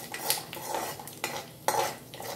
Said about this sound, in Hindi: ये देखिए तड़कने की आवाज़ आने लगी है